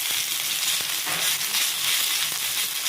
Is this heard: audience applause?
no